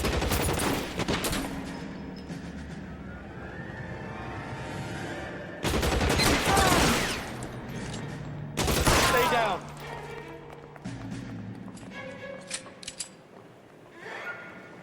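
Gunfire in the crime video game LA Noire, with repeated volleys of shots and loud bursts over a steady background bed, interspersed with brief voices and horse sounds.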